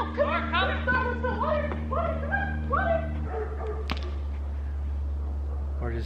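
Several short dog barks and yips in a quick cluster over a steady low hum, followed by quieter scattered noises.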